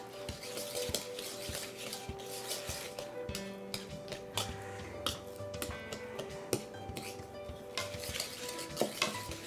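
A spoon stirs flour into almond lace cookie batter in a bowl, giving repeated soft scrapes and light clinks against the bowl in an irregular rhythm, close and moderately quiet.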